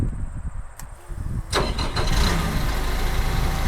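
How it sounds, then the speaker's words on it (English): A vehicle engine cranks briefly and then catches, settling into a steady, loud idle close by after a quieter lead-in. "I'm going to start the engine."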